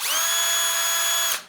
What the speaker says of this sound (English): if you take a 6mm drill bit and go in on the holes you've just made